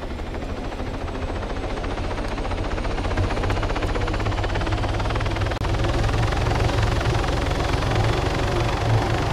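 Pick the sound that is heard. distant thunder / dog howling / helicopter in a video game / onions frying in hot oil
helicopter in a video game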